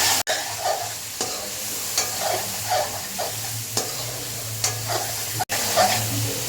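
Tomato is added to a sizzling pan of sea poa fish curry and stirred, with loud, regular spatula scrapes every half second or so over a constant close frying hiss.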